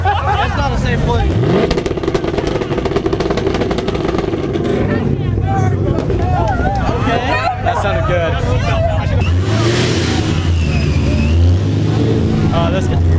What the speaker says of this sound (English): So they're doing rev matches right now.